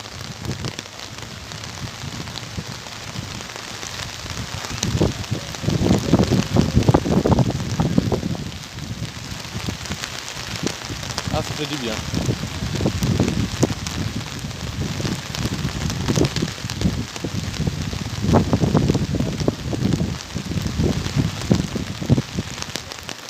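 Heavy rain pours steadily in Mauritius during a thunderstorm, drumming loudly on an umbrella close overhead with gusty swells, while someone speaks briefly under the downpour.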